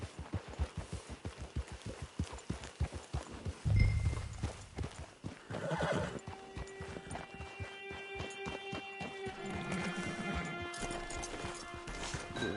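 Hooves clip-clop in a quick steady rhythm as a horse moves in a video game, followed by a loud whinny and snorting, then softer ambient game sounds and a faint tonal hum take over.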